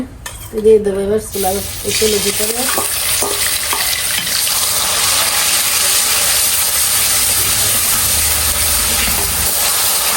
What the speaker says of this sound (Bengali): এখানে হচ্ছে মশলাটা কষানো হচ্ছে এই যে মশলাটা কষানো হয়ে গেছে